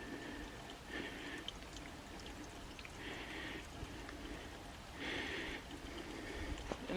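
A small waterfall runs on Rex Creek in Bankhead National Forest, Alabama, a steady broadband rush of falling water that swells in brief louder surges, heard alone with no talk.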